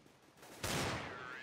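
Gunfire in the video game CS:GO, a sudden loud burst of shots starting partway in and ringing on to the end, with a quieter murmur of game sound beforehand.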